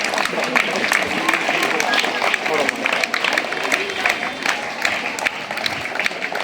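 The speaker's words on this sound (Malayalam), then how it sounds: "make it A big clap" A crowd claps at a government higher secondary school sports day torch relay, scattered sharp claps running steadily under a loud announcer's voice.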